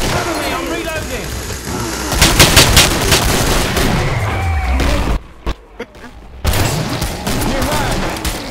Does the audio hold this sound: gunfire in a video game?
yes